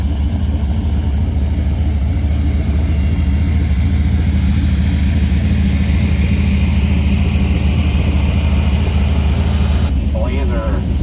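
A car engine idles loud and steady with a rough, droning rumble while it waits to launch on an ice drag strip, the noise holding constant throughout with a brief change near the end.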